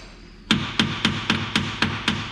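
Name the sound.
hammer hitting truck starter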